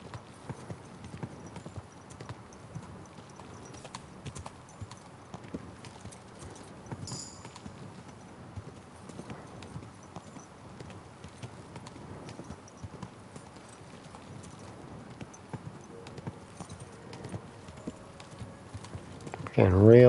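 Horse hooves clip-clop steadily throughout a ride in the video game Kingdom Come: Deliverance 2, a continuous moderate rhythm with some background game ambience and a louder burst near the end.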